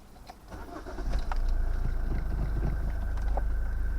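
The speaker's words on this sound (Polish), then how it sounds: "Odpalamy tego sprzęta. Zobaczmy, jak silnik pracuje." A 2012 Toyota Avensis estate engine cranks and catches, then settles into a steady low idle hum that continues to the end.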